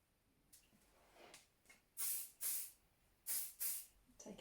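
Hairspray hisses from an aerosol can during hair styling for long hair, in several short bursts: two softer puffs, then two pairs of louder, sharp sprays, fairly close with no talking.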